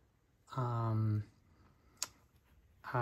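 A single sharp click from one switch of a Drop mechanical keyboard, pressed alone after a stretch of nearby speech and followed by more talking.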